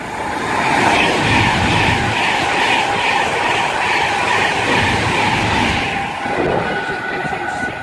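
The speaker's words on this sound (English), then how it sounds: "passing through is going to be a Virgin Pendolino" A Virgin Pendolino train passes through Winsford on the West Coast Main Line, a loud steady rush of wheels and carriages close by that fades slightly near the end.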